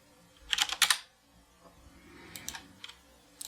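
Someone types a short value on a computer keyboard during mastering work, two quick bursts of key clicks followed by scattered lighter taps, fairly close and clear over a quiet low hum.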